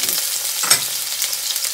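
Garlic sizzling in hot oil for duck curry, a continuous close crackle with a brief surge midway as more goes in, no voices.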